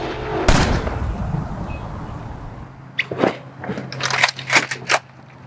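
Gunfire in a Western outlaw film: one sharp loud shot near the start, then after a quieter stretch a rapid burst of several crackling shots, alone without talking.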